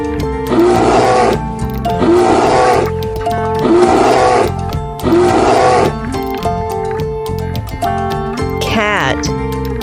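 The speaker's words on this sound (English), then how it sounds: "Bear." A deep animal roar repeats four times in steady, evenly spaced bursts over a backing of sustained music, each roar loud and growling.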